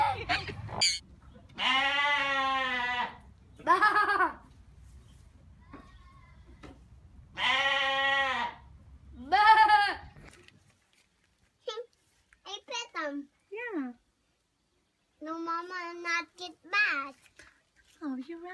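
A child imitates a lamb's bleat with wavering, high-pitched cries, alternating with other short bleating bursts; several separate calls with pauses between.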